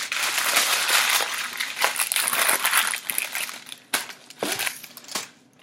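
Paper crinkles and crumples in a kitchen during chicken freezer-meal prep, a close, continuous rustle with sharper crackling bursts toward the end and no talking.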